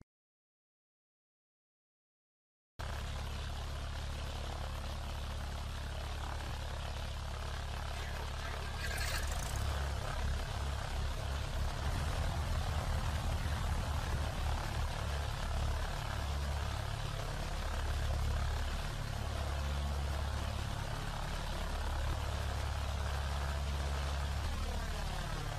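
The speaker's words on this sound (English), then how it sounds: "to start the right engine." Piper Seminole PA-44-180 twin-engine aircraft with its right engine starting, a steady propeller and piston engine drone that rises and settles into a rough idle after a few silent seconds, with a voice speaking at times.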